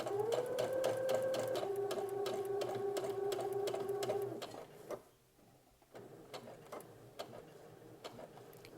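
A sewing machine stitches steadily along a fold with a back stitch, its motor whirring in a continuous hum for about four seconds before stopping, followed by quiet clicks and handling noises.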